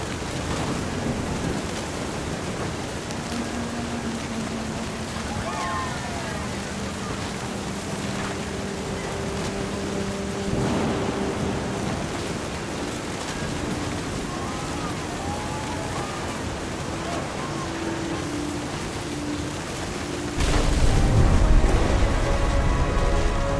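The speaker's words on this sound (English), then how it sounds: "The thunder sounded much too close and full of angry power." Rain and rumbling thunder in the video game What Remains of Edith Finch, a steady wash of rain with low rolls of thunder and a louder, closer burst near the end, and no talk.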